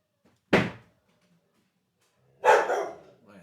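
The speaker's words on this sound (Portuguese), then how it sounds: "Então vamos com o cachorro latindo." A dog barks twice, close and loud, with a short sharp first bark and a longer, rougher second one about two seconds later, separated by near silence, outdoors where people are riding horses.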